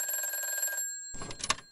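A telephone rings through a handset while a call is being placed, one steady electronic ring tone followed by a pause and a second burst starting, close and clear with no talking.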